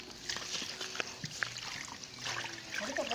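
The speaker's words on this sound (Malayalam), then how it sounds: "ഇച്ചിരി വെള്ളം കളയാൻ നോക്കട്ടെ" Water being tipped out of a bucket, a soft, uneven trickle and splash heard close but faintly against light background noise.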